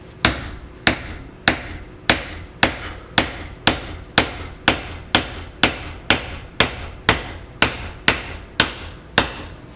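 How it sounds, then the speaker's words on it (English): A hammer pounds a fitting into a Dubia roach enclosure (4x2x2 V2) during assembly, about sixteen sharp, evenly spaced blows in steady rhythm, loud and close with no talking. "And bro, you have to hammer that in."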